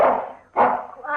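A dog in an old-time radio drama gives two sharp, close barks in quick succession, separated by a short pause.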